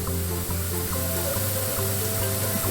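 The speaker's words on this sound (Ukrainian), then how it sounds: "зараз вона ось так жариться, я трошки огонь побавлю, щоб вона в нас була золотистого кольору цибулька" Chopped onion fries in a pan for a soup base, giving a continuous close sizzle with a low hum from the stove beneath it.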